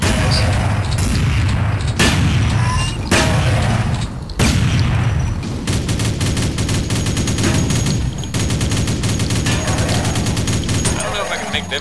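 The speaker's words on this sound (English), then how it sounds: "I'm gonna waste all my shotgun shells with you guys." Gunfire from the Duke Nukem 3D game on the Derailing map, with loud repeated shotgun blasts and explosive booms over constant game noise, while a player talks over the action.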